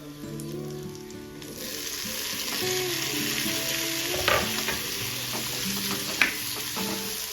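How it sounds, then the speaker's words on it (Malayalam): Onion and tomato sauté in coconut oil for chutney, giving a steady, close sizzle with occasional stirring scrapes and clicks and no talking. "ഉള്ളിയും തക്കാളിയും എല്ലാം വെളിച്ചെണ്ണയിൽ വാട്ടിയതിന് ശേഷം"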